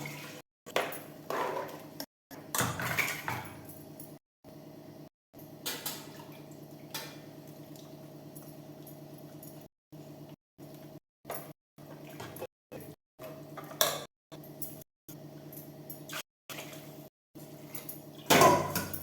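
Metal utensil scraping and clinking against a pot of chicken curry in short bursts, with faint liquid sloshing and a steady low hum underneath.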